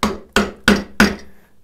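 A hammer drives a chisel into wood while cutting a drawbore mortise for a mortise-and-tenon joint: four sharp, evenly spaced blows, close and loud, each ringing briefly before the next.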